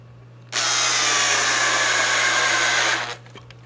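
A power drill drives a screw into wood in one continuous whirring burst of about two and a half seconds, close and loud, then stops abruptly.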